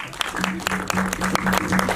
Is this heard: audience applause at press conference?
yes